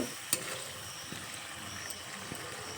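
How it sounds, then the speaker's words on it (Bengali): Fried eggplant being stirred into a simmering curry broth in a pan, a faint, steady sizzle and bubbling with a few soft utensil clicks, heard up close. "বেগুন দিয়ে একটু নেড়েচেড়ে নেব। বেগুনগুলো ঝোলের সঙ্গে ভালোভাবে মিশিয়ে নেব।"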